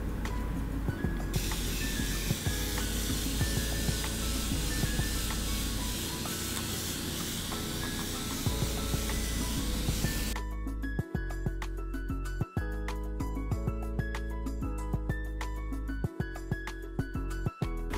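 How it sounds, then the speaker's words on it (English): Morphe Continuous Setting Mist sprayed onto a face, a long continuous close hiss of fine spray that cuts off abruptly partway through, followed by quieter sounds with a few soft clicks. "Now I'm gonna set my face with the Morphe Continuous Setting Mist."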